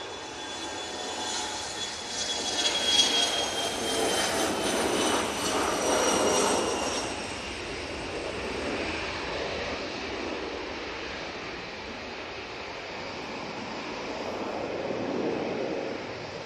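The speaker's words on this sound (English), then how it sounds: "Off to Ibiza we go with this Bombardier Challenger." A Bombardier Challenger business jet departing Manchester Airport for Ibiza, its engine roar building to a loud peak early on and then slowly fading into a long, distant rumble.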